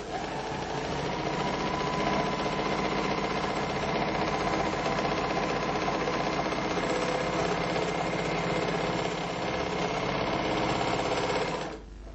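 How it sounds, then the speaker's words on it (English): A Merrylock MK-3000CL overlock serger stitches fabric in one continuous, loud, even mechanical whir with a fast rhythmic chatter, running alone until it stops near the end. "Line the edge of your fabric up with the 5/8 stitch guide and then start stitching."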